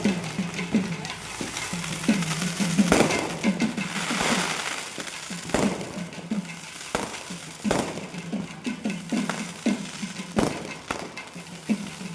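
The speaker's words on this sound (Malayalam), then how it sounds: "ഇനി നമുക്ക് കുറച്ച് ഫയർ വർക്ക്സ് കാണാം" Firecrackers pop and crackle irregularly at a temple festival, over a dense hissing, crackling background, with sharp bangs scattered throughout.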